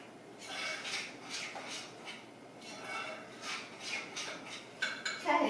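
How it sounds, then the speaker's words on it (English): Scraping and clinking of a spoon stirring melted fudge mixture in a pot for Rachel Ray's fudge, with irregular soft strokes throughout and a louder clatter near the end. "Okay, it is melted, and just giving it a stir here"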